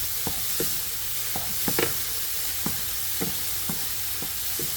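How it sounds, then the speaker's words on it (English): Vegetables frying in a pan for scrambled tofu give a steady close hiss and sizzle, broken by a series of brief stirring scrapes at a regular pace, with no talking. "so I can fry up my vegetable and then put it all together"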